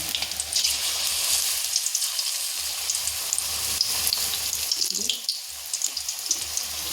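Besan-battered cauliflower pakoras drop into hot oil and bubble with a wet, crackling sizzle. It surges and fades as each piece goes in, with no clear speech.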